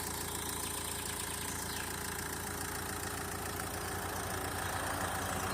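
A 2013 Nissan Qashqai with a K9K engine idles steadily with an even, low mechanical rumble and a faint rhythmic ticking, close and continuous, with no voices.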